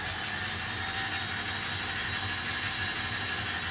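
A stand mixer with a dough hook churns a very wet, sticky South Tyrolean Zelten Christmas bread dough, giving a steady, close mechanical whir and grinding drone throughout with no talk.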